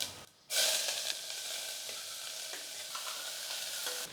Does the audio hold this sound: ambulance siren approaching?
no